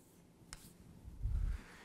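A hand writes out a maths inequality, making faint, brief scratching strokes with a soft tap midway through a quiet moment of under two seconds.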